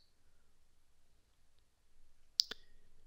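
A computer mouse clicking the Save Changes button, a quick double click, close and crisp against near silence.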